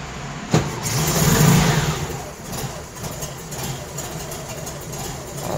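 A cold Volkswagen Variant engine with a 35 mm Solex carburetor cranks and catches, then revs up and settles into an uneven idle with a few more throttle blips.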